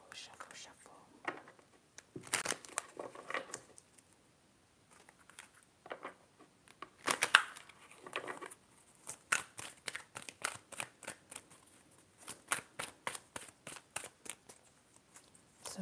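Tarot cards are shuffled in a quiet ASMR session: soft, papery riffles and taps come in short bursts, then a quicker rhythmic run of crisp flicks near the end, with close, hushed whispering in between.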